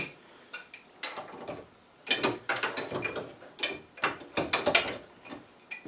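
Fitting on a refueling station nozzle being tightened, a run of close metallic ratcheting clicks and clanks in quick bursts, sparse at first and then denser.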